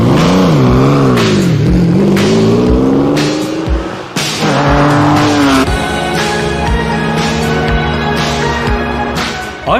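A Lamborghini Countach LP400S drives past loudly, its engine revving through rising and falling pitch sweeps with gear changes, the roar swelling and fading as the car passes close by.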